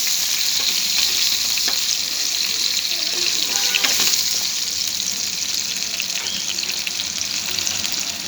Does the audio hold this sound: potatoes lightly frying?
yes